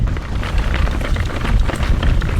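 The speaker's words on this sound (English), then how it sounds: "I was surprised at the wind here" Strong wind on a ridgeline, a loud, continuous roaring rush buffeting the microphone with heavy low rumble and no voices.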